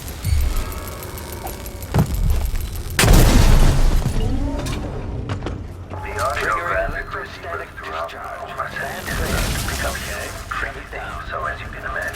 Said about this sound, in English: there's a bit of a ringing in my ear after an explosion